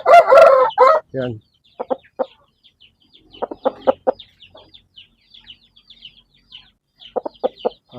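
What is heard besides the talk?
giant chicken crowing and clucking, Dumpo bloodline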